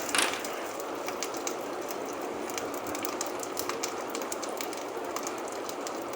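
Chilies and curry leaves fry in oil in a small kadai over a low flame, giving a steady, close sizzle with fine crackling pops throughout and no voices.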